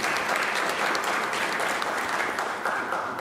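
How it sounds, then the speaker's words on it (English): An audience at a county civics bee competition claps for a commissioner, a full, continuous round of applause from many hands, loud and even from start to finish. "How about a round of applause for Commissioner Scott Dunn?"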